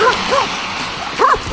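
A dog gives a couple of short high yips or barks, one at the start and one near the end, loud and close over a noisy outdoor background.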